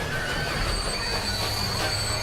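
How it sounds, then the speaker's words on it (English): A train in the Transport Fever video game rolls into a station, its wheels squealing steadily against the rails over a continuous low rumble and faint clatter of the cars, with no talking. "our train is just coming into the station"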